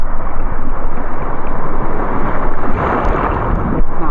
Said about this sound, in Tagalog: Lakas na alon, guys.